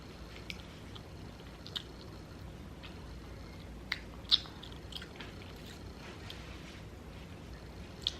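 Jalapeno being chewed up close during a mukbang, with soft wet mastication and a few faint crunchy clicks spread over a quiet background, no talking.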